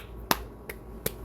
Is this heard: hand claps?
yes